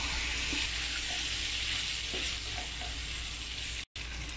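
Fried chicken pieces dropped into a hot pan of ginger-spiced gravy and stirred, a loud continuous sizzle with faint scraping, broken by one brief dropout near the end, no voices.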